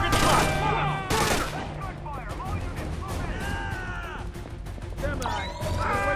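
Gunfire in the Splinter Cell Conviction video game, Downtown District, with loud shots and impacts opening the scene, then continuing combat noise and shouting voices.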